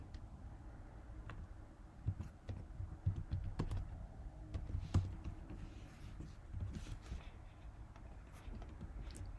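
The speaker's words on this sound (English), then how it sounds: "I think I'm going to type a note right now." Close, quiet typing on a computer keyboard during a Roblox detective game, irregular clicks in short bursts with pauses, alone without talk.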